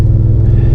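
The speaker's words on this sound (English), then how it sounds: "we're taking a little ride in the Jeep." Jeep fitted with a 396 stroker 5.7 engine rumbles along during a drive, a loud, close, steady low engine drone throughout the short stretch with no talk.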